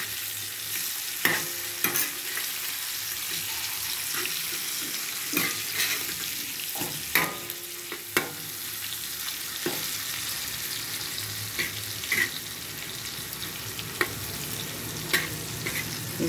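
Pieces of korameenu (murrel) fish frying in hot oil for a fish pulusu, a steady close sizzle with occasional clinks and scrapes as the pieces are turned over, no voices.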